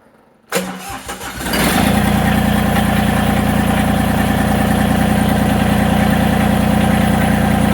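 A Massey Ferguson GC1720 diesel tractor engine cranks briefly, catches and starts, then settles into a loud, steady idle that continues to the end.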